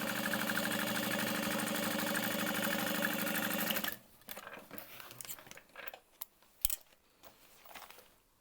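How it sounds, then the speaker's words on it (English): A sewing machine stitches a garment lining shut in a steady, rapid mechanical whir for about four seconds, then stops, followed by faint handling clicks and rustles. "that's where I'm sewing it shut"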